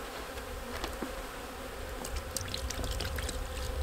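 Honeybees from a spring nuc buzz in a dense, continuous drone while being fed sugar water, a close swarm hum with trickling liquid and occasional light clicks mixed in.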